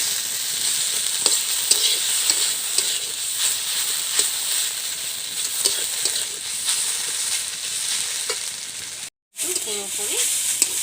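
Ground spice pastes fry in white oil in a kadai for a chicken and potato curry. A continuous close sizzle runs throughout with occasional stirring clinks, broken by a brief cut near the end.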